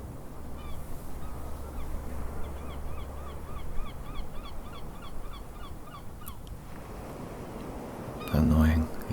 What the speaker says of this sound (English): When was the last time you heard a seagull?